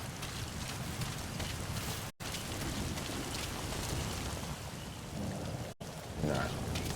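Steady, dense rain in Metal Gear Solid V: The Phantom Pain hisses evenly throughout, with a faint low rumble beneath and two brief dropouts where the sound cuts out.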